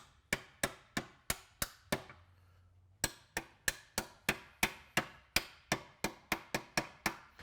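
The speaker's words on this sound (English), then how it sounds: "I've got my little funny shaped hammer" A small, oddly shaped hammer taps transmission bearings into the case of an Eaton Fuller FRO16210C ten-speed transmission, giving a steady run of sharp metallic blows, close and loud. After the first seven there is a short pause, then the hits resume at a brisk, even rhythm.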